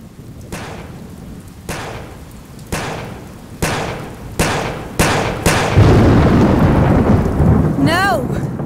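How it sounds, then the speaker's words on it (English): Rolling thunderclaps in a rainstorm from the PS2 game Yakuza, six sharp cracks spaced about a second apart over steady heavy rain that grows louder, ending with a brief warbling chirp. "Lightning."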